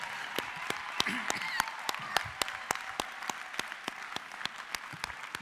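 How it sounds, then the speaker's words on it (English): An audience at a winter university graduation ceremony claps for the graduates, a steady wash of applause punctuated by sharp, evenly spaced nearby claps, with faint voices mixed in. "Give them a round of applause, for heaven's sake"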